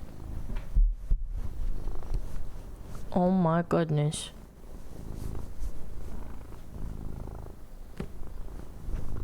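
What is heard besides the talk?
pet cat purring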